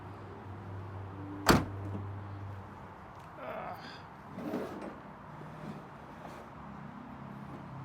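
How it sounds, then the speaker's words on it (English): A single sharp slam of a door on an old Chevelle barn find sits out in a quiet garage, followed by faint shuffling and brief low voices. "You can shut that door for now."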